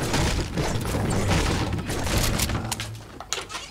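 A drum shotgun in a video game fires rapid, heavy blasts that blur into a loud booming barrage for about three seconds, then trail off into a few scattered sharp shots.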